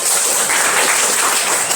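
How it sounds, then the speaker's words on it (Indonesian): Children in a classroom session clap together, a short, loud, dense burst of applause filling the moment close by. "Oke, tepuk tangan buat kita semuanya."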